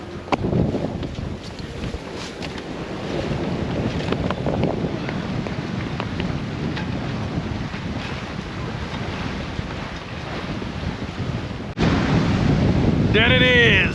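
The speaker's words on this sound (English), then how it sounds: "The waves have really built up now," Wind buffets the microphone while waves slosh and splash against a sailboat heeling in lively, built-up seas, a continuous loud roar with a sharp burst of spray near the end.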